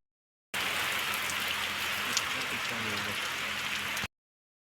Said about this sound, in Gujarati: અત્યારે વરસાદ આવે છે